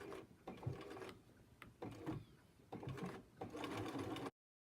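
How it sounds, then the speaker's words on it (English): A sewing machine stitches a kimono sleeve seam in short bursts of rapid mechanical chatter, pausing briefly between runs, close and moderately loud before cutting off. "And then I will sew the sleeve seam."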